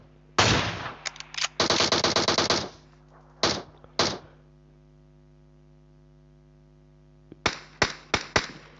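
Gunfire in PUBG Mobile comes as sharp bursts of rapid automatic shots and a few single cracks, separated by pauses, over a constant electrical hum.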